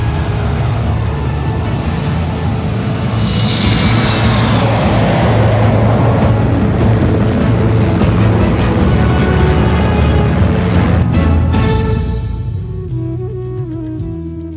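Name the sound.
Jaguar jet aircraft flypast at Republic Day parade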